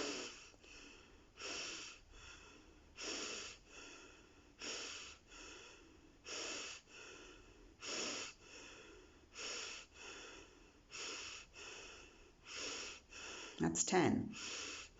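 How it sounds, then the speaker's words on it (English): Wim Hof-style deep breathing: a person takes big, forceful inhales, each followed by a release, in an even rhythm of roughly sixteen close, loud breaths, with one louder gusty burst near the end. "So I'm going to do 30 big breaths and emphasis on the inhale"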